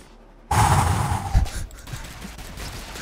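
Video game Rounds, with a burst of gunfire erupting loudly and close, followed by a dense, noisy wash that fades into lingering rumble; no speech over it.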